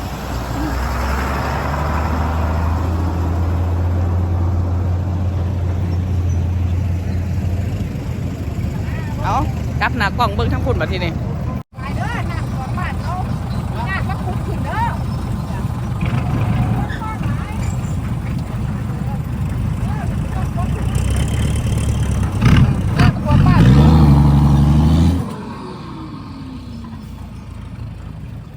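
A truck engine runs at a pond-digging site on a mixed farm plot, a steady low rumble that holds throughout while people talk nearby.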